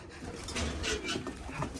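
Racing pigeons cooing softly and continuously in their loft, a faint, low burble with no voices.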